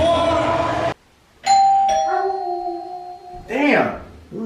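A doorbell chime rings out clearly with a sustained ringing tone, surrounded by loud voices and howling or yipping sounds.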